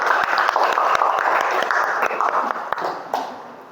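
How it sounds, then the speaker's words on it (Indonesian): A school class applauds group 2, a burst of many hands clapping fairly close that trails off toward the end, with some children's voices mixed in. "Yuk, beri tepuk tangan untuk kelompok 2."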